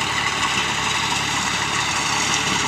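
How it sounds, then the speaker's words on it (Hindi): A tractor engine running steadily at a farm, a continuous even drone with no breaks, loud and close, no voices. "5 ट्रैक्टर चालू है आज।"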